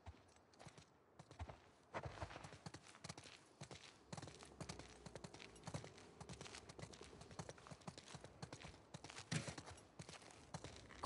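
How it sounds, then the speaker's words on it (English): Horses walking in The Last of Us Part 2, steady clip-clop of hooves plodding along at a close distance, irregular but continuous, with faint background ambience and no talking. "Let's get back to the horses."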